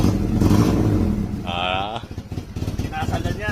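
A stock 1996 Honda Civic LXI with a ZC engine runs at idle, then gets blipped with short revs, a close, uneven engine sound mixed with people talking.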